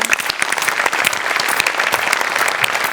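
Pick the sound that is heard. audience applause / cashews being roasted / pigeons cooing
audience applause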